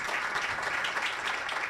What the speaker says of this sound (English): A round of applause for the panel.